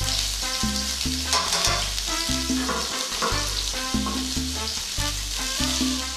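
Garlic and vegetables frying in a hot pan for Cuban-style shrimp creole: a steady, close sizzle that runs throughout, with sustained tonal sounds behind it.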